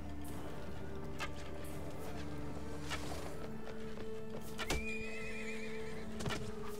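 A horse neighs amid a video game battle, a whinny rising over steady background noise with scattered hoof clip-clops and sharp knocks.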